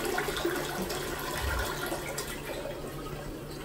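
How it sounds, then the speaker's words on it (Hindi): A Japanese public toilet in a convenience store flushes with a steady, moderately loud rush of running water throughout, with no talking. "यहाँ पे छोटा फ्लश है और यहाँ पे बड़ा है"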